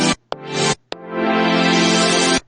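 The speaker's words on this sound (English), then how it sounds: "auto filter helps get like the little whoomp" Layered synths shaped by an auto filter whoomp effect, a few short stabs followed by a long sustained chord that swells and sweeps open, loud with no voices.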